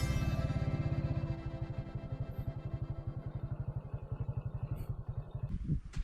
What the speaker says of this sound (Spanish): Vamos a bajar la moto.